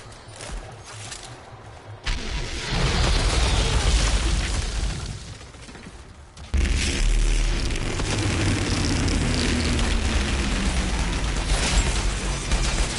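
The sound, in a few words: explosion in a PS4 video game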